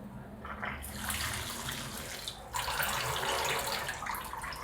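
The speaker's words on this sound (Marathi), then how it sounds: "कोळंबीमध्ये पाणी ओतते. धुवून चांगली घ्यायची कोळंबी." Water pours into a bowl of prawns for washing, a steady splashing stream that grows fuller and louder partway through, heard close in a home kitchen.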